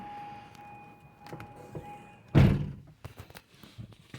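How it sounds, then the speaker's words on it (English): A solid, heavy thunk as the hydraulic-assisted door of a 1991 Toyota Sera swings shut, a single loud close thud after a steady tone, followed by small rustles and taps inside the car. "The doors are really hard to close"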